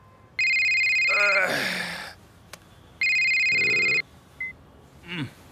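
A telephone ringing in a Punjabi film comedy: two bursts of electronic ring tone, each about a second long and separated by a pause, with a brief voice between them and a short click at the end.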